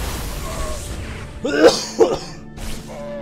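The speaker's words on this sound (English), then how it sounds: "A little bit sick, so I'm going to be coughing from time to time" Two or three sharp, close coughs break in during a StarCraft-style strategy game commentary, with a throat-clearing rasp among them, standing out loudly from faint background game sounds.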